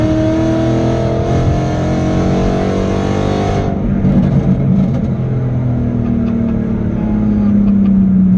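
A 2011 Ford Mustang's engine pulls hard past 4,000 rpm, the loud, close drone rising steadily in pitch as the car accelerates, with no talking over it.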